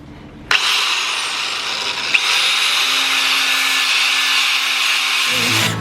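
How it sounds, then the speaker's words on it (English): DeWalt power sander starting abruptly and running in one continuous loud, high whir, with a brief change in pitch near the end before it winds down. "we'll start sanding along here and getting it all prepped"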